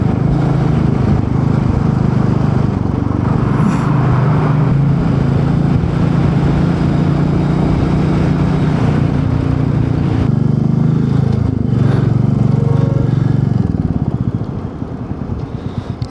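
A motorbike cruises along a highway between Srinagar and Delhi, its engine droning loudly and steadily up close with rushing wind noise, easing off in the final seconds.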